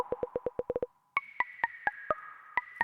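EDM house lead synths play dry without effects: a quick run of short, clipped notes, a brief gap, then higher staccato stabs, heard alone.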